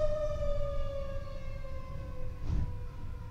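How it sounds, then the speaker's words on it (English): A fire engine siren passes along a street, with a steady wailing tone that slowly drops in pitch as it goes by and a rumble of traffic underneath, heard from indoors at moderate distance. "now there's a fire engine coming to the street."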